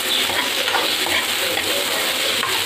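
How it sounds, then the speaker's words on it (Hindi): Beans and peas are stirred into a hot pan for paneer pulao, giving a loud, continuous sizzle with faint scraping of the spoon throughout, near and without speech. "हम यहाँ पे बीन्स डाल रहे हैं और इसी के साथ हम यहाँ पे मटर डाल रहे हैं। इसको मिक्स कर देंगे हम"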